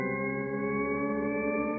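Arturia MicroFreak synthesizer playing a Shepard tone: a sustained, dense stack of steady harmonic partials that hum on continuously and evenly for the whole stretch, with no talking.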